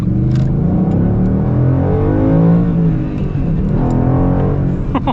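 A Ford Mustang Boss 302 muscle car accelerates hard, its engine note loud and sustained from close by, rising and falling steadily across the full stretch with no voices.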